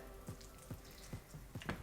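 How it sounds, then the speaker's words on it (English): Water poured a little at a time into a mixing bowl while making dough, giving faint, sparse splashes and drips in short bursts about every half second, heard close in a quiet room. "So what you have to do is pour in a little bit of water at a time,"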